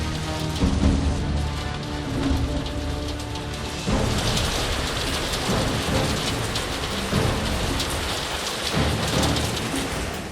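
A hailstorm with quarter-sized hail: steady heavy rain and hard pelting on a surface, with low rumbling thunder underneath, continuous and loud throughout.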